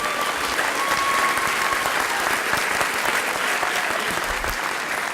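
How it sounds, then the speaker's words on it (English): A graduate hooding ceremony audience gives a sustained round of applause, dense and steady clapping from a large crowd at constant loudness for several seconds. "Can we give one more round of applause for Dulce"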